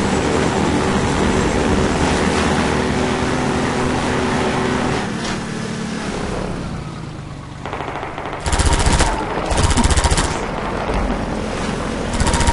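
Enemy gunfire in the video game Half-Life 2: loud, sustained automatic bursts rattle over a windy, rushing backdrop, with a short gap before sharper volleys resume near the end.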